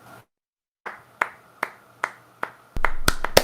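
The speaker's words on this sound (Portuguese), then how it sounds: "Eu só desmutei para aplaudir, tá?" A podcast host claps hands five times at an even pace, sharp dry claps with a quiet pause before them, then a burst of faster overlapping claps at the end.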